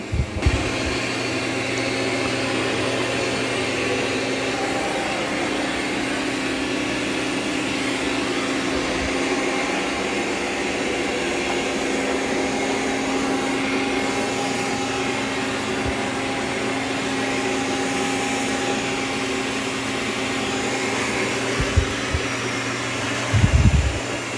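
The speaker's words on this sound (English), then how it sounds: "And then it's going to increase suction when it's on carpet." A Dreame X40 Ultra robot vacuum running on carpet with boosted suction, a loud, steady motor whir that holds for the whole stretch with only a few faint bumps and no talking.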